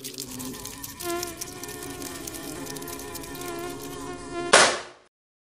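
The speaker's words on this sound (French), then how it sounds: "Vous aussi, ça vous arrive qu'il y a un seul petit moustique qui vous empêche de dormir?" A high, whining mosquito drone from a horror film hums steadily and close for several seconds, then ends in a sharp loud burst before dropping to silence.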